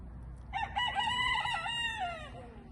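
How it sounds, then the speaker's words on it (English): A single rooster crow, clear and moderately distant, rises and trails off over about two seconds against a low outdoor background rumble. "you hear the Poncho and Lefty over there crowing a little bit"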